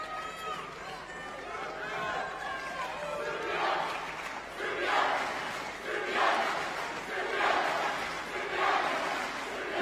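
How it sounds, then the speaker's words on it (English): Home crowd at a European Championship karate final cheers and chants in rhythmic surges, loud and sustained, with a commentator speaking over the roar. "encouraged by the home crowd."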